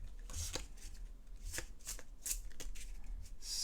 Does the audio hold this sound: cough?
no